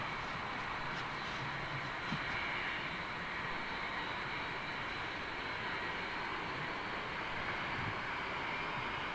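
Airliner jet engines spooling up on the runway at Heathrow Airport, a loud steady broadband roar with a rising whine, heard from a distance without any talk.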